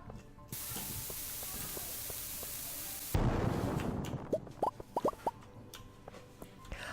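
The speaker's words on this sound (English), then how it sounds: "Use this little bomb here." A bomb in the mines of the video game Stardew Valley gives a steady fizzing fuse hiss, then bursts in a sudden explosion followed by scattered plopping and popping sounds.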